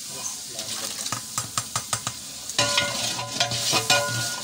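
Tomato paste frying in a pot of beef korma, the spoon knocking and scraping in a quick rhythm, then a louder burst of sizzling as more goes in, heard up close.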